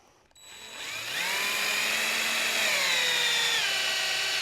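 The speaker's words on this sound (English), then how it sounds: "We're going to drill a hole through this real quick." A power drill bores a hole through a homemade poured crankbait fishing lure. After a brief quiet start, the motor spins up into a loud, steady, high whine that holds close and continuous to the end.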